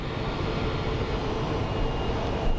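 A United airliner takes off at Phoenix Sky Harbor airport, its engines giving a steady, broad roar from a distance. The roar holds at a moderate level with no voices over it.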